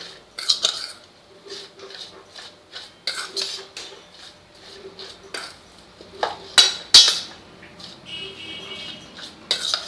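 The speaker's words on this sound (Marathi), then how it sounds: "आणि ही भाजी अशी छान सगळी मिक्स करून घ्यायची आहे." Chopped vegetables for a homemade tava pizza topping, seasoned with oregano, are tossed together with a spoon in a bowl. Repeated scraping strokes and light clinks come close up and at an irregular pace, with no talking.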